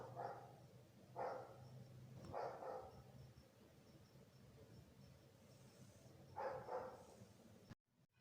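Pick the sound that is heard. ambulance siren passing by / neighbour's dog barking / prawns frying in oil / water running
neighbour's dog barking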